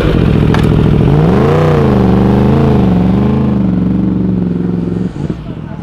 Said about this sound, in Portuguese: É quatro cilindros, hein? Só que é crossplane, tipo, cada um estoura de um jeito.